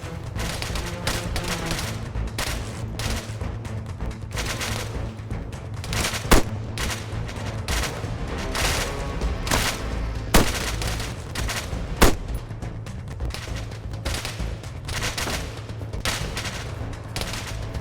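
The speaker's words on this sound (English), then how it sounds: "the soldiers continue shooting at you" Soldiers fire weapons in the military video game ArmA 3, producing a continuous barrage of overlapping gunshots and bursts, with several louder sharp cracks standing out above the dense, ongoing firefight.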